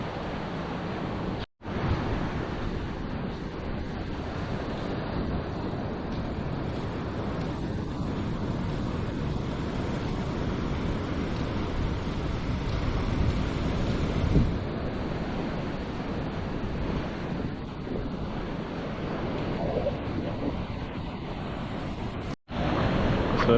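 Ocean surf at a beach rolls in as a continuous low roar of breaking waves, steady and fairly loud, mixed with wind buffeting the microphone and no voices.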